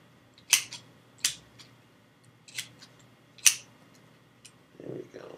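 Branch cutters snip through the tip of a handmade wooden wand, giving four sharp, close cuts spaced about a second apart, followed by a brief soft rustle.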